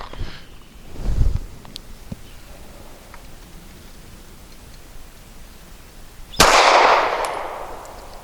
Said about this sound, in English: Let's hope shot number 4 stays good.